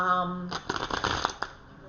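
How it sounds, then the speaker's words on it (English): Imperial Gilded Tarot cards shuffled by hand in a brief burst of papery riffling and flicking, close and clear, right after a short voice. "I'm going to shuffle the cards."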